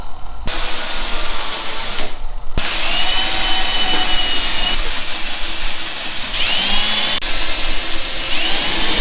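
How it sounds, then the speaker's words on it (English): A power drill bores holes in a vehicle hood, whining loudly and steadily with brief stops between holes and the pitch shifting as the bit cuts through. "Now that all the holes are drilled out"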